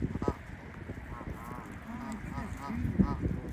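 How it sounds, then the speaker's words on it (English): Geese at a waterside feeding spot with ducks nearby, giving several short nasal honks in an irregular series, fairly close, while a person talks quietly in between. "Geese."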